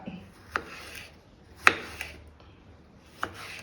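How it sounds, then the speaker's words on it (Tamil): A knife slices tomatoes finely on a chopping board, giving three sharp, isolated cuts spaced about a second apart, close and fairly quiet. "இப்போ தக்காளி கட் பண்ணிகிட்ருக்கா"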